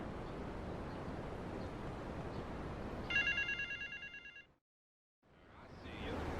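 A payphone at an airport terminal rings in GTA Vice City, a short run of bright, repeating electronic trills over a low ambient rumble, cutting off suddenly into brief silence before the background returns.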